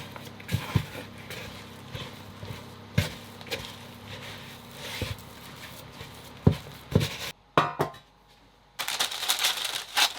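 Bread dough being mixed by hand in a bowl aboard a 40-foot sailboat, with irregular soft knocks and thumps of the spoon or hand, close and fairly quiet, followed by a brief louder rustle.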